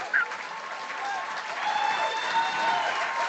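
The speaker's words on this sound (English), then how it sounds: "How about applause?" Sustained applause during a radio show: a short wash of clapping with a faint crowd murmur, moderately close and steady, with some tonal sound mixed in beneath it.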